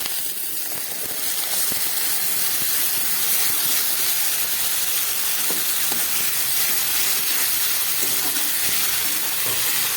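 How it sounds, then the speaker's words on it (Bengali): Spice paste of ginger, garlic, onion and chilli hitting a pan of fried onions while cooking dried fish, giving a loud steady sizzle and hiss that carries on unbroken and close, with no talking. "এবার আমি এর মধ্যে দিয়ে দিচ্ছি পেস্ট করে রাখা মশলা"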